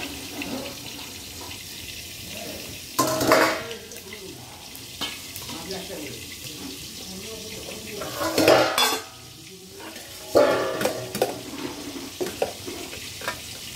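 Black cumin (nigella seeds) is tipped into a hot pan where ivy gourd is being fried. Several loud bursts of sizzling and clattering utensils rise over a steady background of frying.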